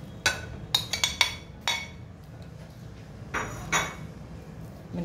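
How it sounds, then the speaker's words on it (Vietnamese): Shrimp being mixed with seasoning in a bowl, giving a series of sharp clinks and taps of a utensil against the dish in quick irregular bursts, then a couple more knocks after a quiet stretch. "Bây giờ mình sẽ trộn gia vị vô tôm."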